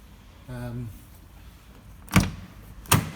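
On a Peugeot 207, a brief tonal whir sounds near the start, followed by two sharp thuds as the car door is handled when someone climbs in, each short and fairly close.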